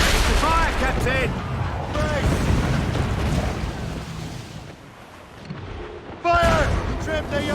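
Broadside cannon fire from a sailing warship in Assassin's Creed Rogue, booming bursts over rushing sea and wind, with game voices shouting over the battle.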